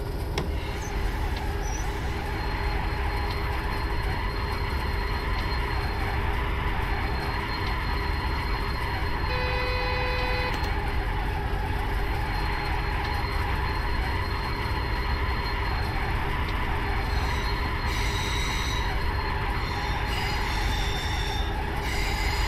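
An oil train bound for Coevorden rolls past in a steady, continuous rumble of wheels and cars on rails, loud and close throughout, with a brief faint squeal partway through and no talking.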